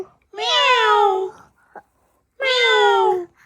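A child imitates a cat's meow with two drawn-out, wavering meows separated by a brief pause, close and fairly loud in a quiet home.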